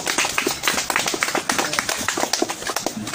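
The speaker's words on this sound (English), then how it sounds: "Give him a round of applause." Audience applause for a new honorary doctor at a ceremony, a close, brisk run of individual hand claps with a few people clapping unevenly, lasting a few seconds.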